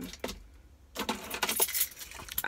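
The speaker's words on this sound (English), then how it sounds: "Oh, I'm trying to use a regular key in here." Keys jangle and clink in short metallic bursts close by while someone tries to unlock an old truck, with faint vehicle noise in the background.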